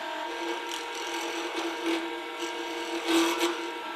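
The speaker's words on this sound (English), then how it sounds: "I'm going to start this around 2600, and when I get it round, I'm going to up the lathe as fast as it goes, which is about 3800" Wood lathe spinning a segmented pen blank as a gouge cuts it, a thin scraping and rasping with intermittent louder catches over a steady faint motor hum.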